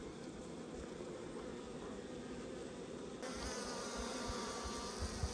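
Honey bees buzz steadily in a clear beehive, a dense close hum that holds throughout and grows slightly fuller partway through, with no voices.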